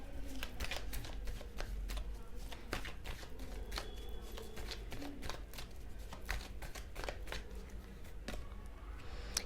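Tarot cards being shuffled by hand, a dense run of quick riffling flicks and soft slaps close to the microphone, continuous for the whole stretch with no talking.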